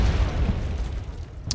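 A heavy artillery shell bursts in Wargame: Red Dragon, a deep booming explosion that rumbles and fades over about a second, followed by a short sharp crack near the end.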